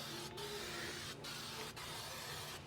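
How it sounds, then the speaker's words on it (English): A steady hiss of an aerosol can of spray adhesive spraying onto plastic, with short breaks between bursts, close by and continuous for most of the moment. "I'm going to spray this down just so the plastic will stick while we're doing this."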